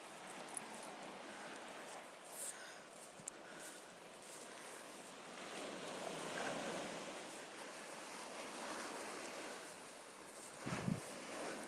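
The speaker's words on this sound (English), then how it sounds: "We're still hearing the sound of the sea." Sea waves wash on the shore at a faint, steady distance, with wind noise over the surf and a brief bump near the end.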